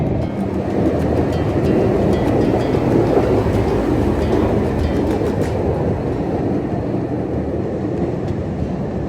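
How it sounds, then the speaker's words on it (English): A train rumbles steadily past close by, a continuous heavy roar of rail cars with faint metallic squeals, no voices. "the thing that just went past me was a train truck car"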